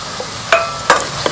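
Chopped onions stirred into a pan of frying ginger, green chili and tomato for dhaba-style palak paneer, with a steady low sizzle broken by a few sharp scraping stirs of the spoon.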